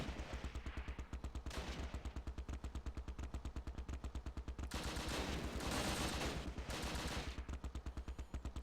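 Heavy machine gun fire in the Close Combat wargame, a long, rapid, evenly spaced stream of shots that stays fairly quiet and distant, with denser bursts midway.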